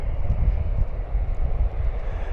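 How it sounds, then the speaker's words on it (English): A C-130 Hercules sits at the far end of an airport runway, its engines giving a loud, continuous low rumble and drone with no break. "So still at the other end of the runway is our C-130 Hercules"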